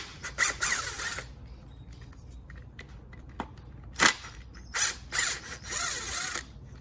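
An impact driver fires in short whirring, rattling bursts while removing PCV cover bolts from a Mercedes M112 engine on a W220, close and intermittent with quiet gaps.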